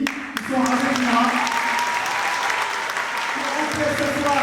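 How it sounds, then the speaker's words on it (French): An audience at an evening storytelling event claps steadily for the girls who told tales, with a dense, continuous patter and a voice speaking over the applause. "j'aimerais bien que vous applaudissiez les filles qui sont avec moi"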